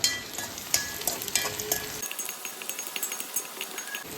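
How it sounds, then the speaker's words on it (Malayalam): Chopped onions sizzle and fry in a hot pan, a close crackling hiss with stirring scrapes, the frying noise thinning out midway while stirring clicks continue on their own. "ഇനി വളരെ കുറച്ച് ഉള്ളി അരിഞ്ഞത് നല്ല ഗോൾഡൻ ബ്രൗൺ ആവട്ടെ"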